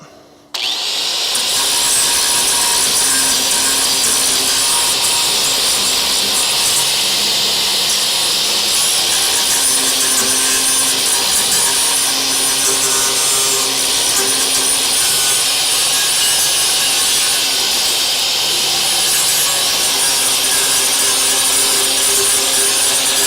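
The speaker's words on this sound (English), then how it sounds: "I might need to switch off the flap disc. I might need the grinding wheel straight up." An angle grinder fitted with a flap disc grinds steadily on the steel frame rails of a car, a loud, continuous, harsh hiss that stays unbroken for the whole stretch with no talking.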